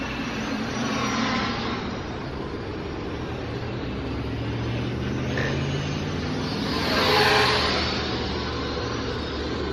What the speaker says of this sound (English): You can hear how fast the props are spinning.